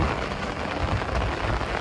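Steady rain falls outdoors in a village setting in Odisha, a dense continuous hiss of drops on surfaces at an even, fairly loud level with no voices.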